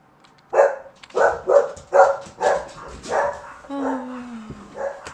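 A dog barks indoors in a quick run of five or six sharp, close barks, followed by a whiny yip and a final bark, loud and alone over a quiet room.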